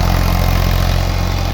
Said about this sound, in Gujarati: મોટા પપૈયા હોય એમાં રોટોવેટર મારી અને ખેતરની સફાઈ કરી શકીએ છીએ આપણે